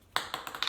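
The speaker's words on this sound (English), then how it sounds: "Oops, there goes the lid." The long threaded cap of a vanilla extract bottle drops and clatters, giving a quick run of four or five light, close taps within well under a second.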